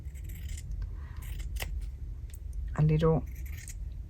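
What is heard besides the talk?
scissors cutting a piece of linen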